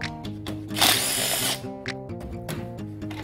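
A power tool whirs briefly to loosen an air cleaner bolt on a Victoria Nicky 125 scooter, one close burst amid clicks and clatter of parts.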